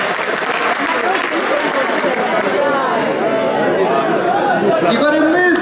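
An audience breaks into sustained applause at a keynote talk in Gauteng, South Africa, dense steady clapping with crowd chatter mixed in throughout.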